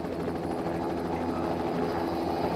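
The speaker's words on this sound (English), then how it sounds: "He's going to land the helicopter." A helicopter sound effect plays during a Zombicide board game session, a steady whirring rotor drone held close and loud throughout, with no speech over it.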